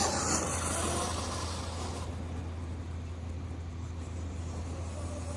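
Hobao MT Sport Plus RC monster truck running over dirt and rocks, a steady engine drone heard continuously and fairly close, with no voices.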